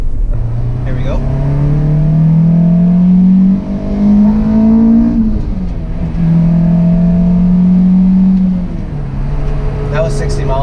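Toyota Celica GT-S accelerating up to 60 mph from inside the cabin, engine note rising through the gears with shift dips, a speaker talking over it.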